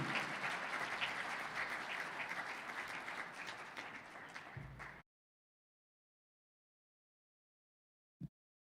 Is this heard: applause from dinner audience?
yes